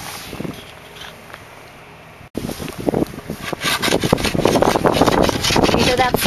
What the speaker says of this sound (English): I am using a Gummy Stone today because yesterday was icy, and I want to just make sure that there are no burrs on the edges.